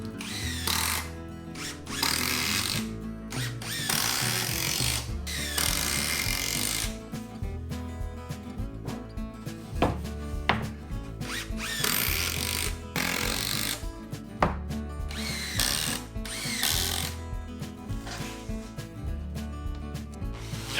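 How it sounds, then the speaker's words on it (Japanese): A power drill drives 120 mm screws into a wooden queen-size low bed frame, with long loud whirring runs broken by short pauses, rising and falling in pitch, close up with no speech. "120のビスで裏側から留めていきます"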